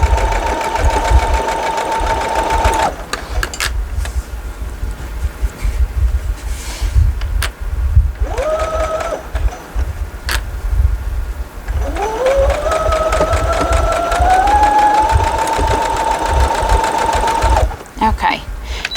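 A home sewing machine stitches a quilt seam in short bursts, its motor whining and rising in pitch in the later run, with pauses between and talk in the room.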